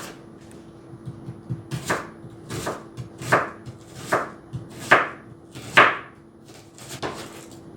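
A knife chops Spanish sweet yellow onions on a cutting board, eight or so crisp, evenly spaced strokes, close and loud, with nobody talking.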